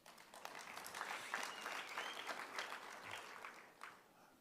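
Audience applause at a keynote address during a social sector summit: a faint, fairly even patter of many hands clapping, heard at a distance and fading toward the end.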